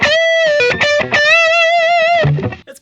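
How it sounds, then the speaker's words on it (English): A 2012 Gibson Les Paul electric guitar with EMG pickups plays a loud, heavily distorted lead phrase of sustained, sliding notes that ends with a short fade and no voices. "this guitar can also do a lot more than just distorted tones"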